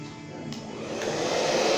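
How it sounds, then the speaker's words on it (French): A hair dryer blows hot air onto a dampened moustache, a steady broadband whoosh that swells slightly louder as it runs, close and alone with no talk. "Tu prends ton séchoir."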